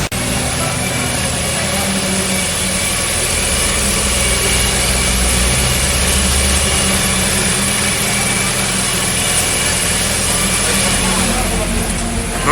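A race car's engine, newly reinstalled after an engine and gearbox swap during an endurance event at the Bugatti circuit in Le Mans, runs loud and steady through the whole stretch, with a constant drone and background noise and no talk.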